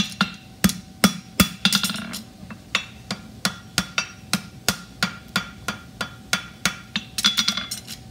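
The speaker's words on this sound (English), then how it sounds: "I'm hitting this with the round so I don't score the inside of the edge." A hammer rounds hot steel while a horseshoe is forged with a cap toe and extended heel. Sharp metallic strikes ring out in a steady rhythm of roughly twenty blows, close and loud, with brief clusters of quicker taps.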